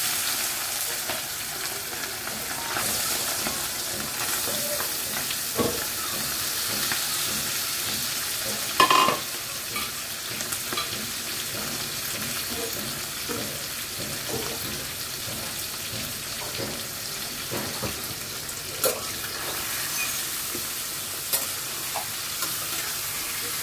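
Marinated tengra fish fries in a pan with black cumin, giving a continuous loud sizzle broken by scraping stirs and occasional clinks of the spoon.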